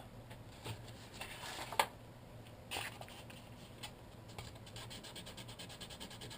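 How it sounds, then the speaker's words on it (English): Sandpaper rubbing over a small plastic headlight part for a model T-34 tank, a soft, steady rasping scrape that stays faint and close, with a few slightly louder strokes. "Sometimes it's better just to run it across sandpaper anyways, because it does do a nicer job of cleaning it up."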